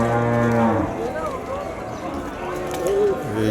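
Cattle at a cattle market in Vaniyambadi give loud, long moos close by, with more lowing and busy market noise around them and people talking.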